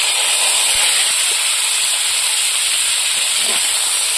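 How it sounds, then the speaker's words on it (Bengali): Fried kalbaush fish pieces go into a hot pan with whole mustard seeds and five-spice tempering, raising a loud, steady sizzling hiss that fills the clip. "এবার ভেজে রাখা মাছগুলো দিয়ে দেবো।"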